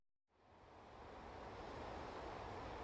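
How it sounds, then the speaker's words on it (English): Ocean surf washing in steadily after a brief moment of silence, a broad continuous rush of water that swells and then holds at a fairly loud level with no voices. "It starts with the water."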